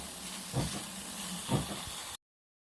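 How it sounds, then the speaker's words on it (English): Steam hisses steadily from a coal-fired LGB Mallet live steam garden locomotive during a hot steam test, with two soft chuffing pulses about a second apart before it cuts off abruptly. "now I apply steam and see if it's running"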